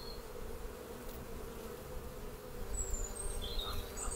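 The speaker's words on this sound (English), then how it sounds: "Oh look, the baby bee is slowly making her way out." Honeybees buzz at an opened hive during a spring inspection, a dense, steady hum close by with a few individual bees droning past, no voices.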